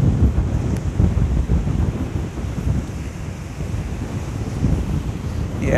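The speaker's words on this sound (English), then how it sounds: "Waves are pretty big though. Pretty strong waves." Strong ocean waves roll and crash continuously on a beach at Ogmore in South Wales, heard as a loud, steady surf roar mixed with gusty wind buffeting the microphone.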